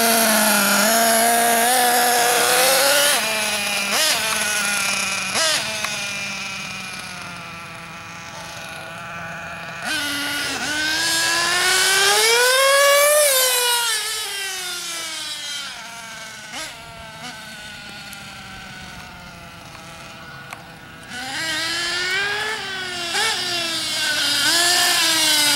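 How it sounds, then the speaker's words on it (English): Kyosho Inferno MP9 nitro RC buggy engine during speed runs, a high buzzing two-stroke whine that rises and falls in pitch as the car accelerates, passes and returns, alternating between near and distant, with no talking. "We're just tuning this Inferno mp9 Kyosho buggy to a couple of speed runs and try to see if it's tuned right."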